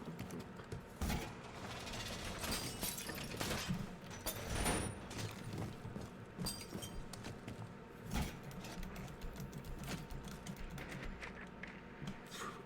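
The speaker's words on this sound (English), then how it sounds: "I'm reloading." A weapon reloads during a competitive shooter match, with faint mechanical clicks and clacks over a low steady background and occasional distant bursts of gunfire.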